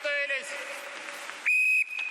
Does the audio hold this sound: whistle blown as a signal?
yes